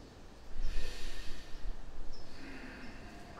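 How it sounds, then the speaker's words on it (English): A deep breath taken during an upper-body mobility exercise: a long airy inhale swelling from about half a second, heard close and alone, then easing into a softer exhale with no talking. "Take another breath up here"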